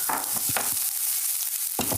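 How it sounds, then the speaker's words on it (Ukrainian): Chopped onion in a frying pan sizzles with a steady bright hiss, punctuated by a few scraping stirs of a spatula, heard up close. "І першою іде цибуля нарізана. О! Улюблений звук шкварчить."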